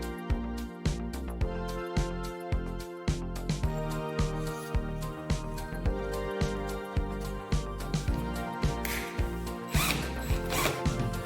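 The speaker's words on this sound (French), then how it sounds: "Désormais, avec cet outil, vous pouvez torsader les fils rapidement et efficacement." A power drill fitted with a homemade tool made from a washer on a bolt twists wires, producing a rapid, regular clicking and ratcheting rhythm that stays loud and steady throughout.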